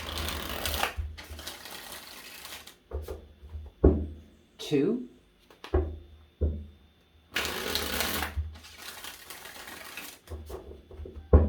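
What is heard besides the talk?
tarot cards being shuffled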